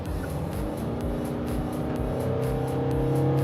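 A Hyundai Staria diesel engine pulling under full throttle, a steady engine drone that rises slowly in pitch, heard from inside the vehicle, moderately loud with no talking.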